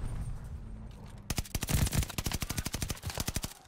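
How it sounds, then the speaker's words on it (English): Rapid gunfire aimed at the player in Call of Duty: Vanguard multiplayer, a quiet start giving way to a sharp, steady burst of automatic shots that runs close and loud to the end. "somebody trying to shoot me"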